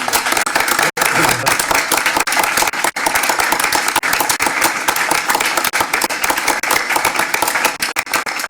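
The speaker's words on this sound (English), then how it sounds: "Can we give him a round of applause?" Attendees at a transit authority board meeting give a loud, dense round of applause that runs continuously for several seconds, with scattered voices underneath.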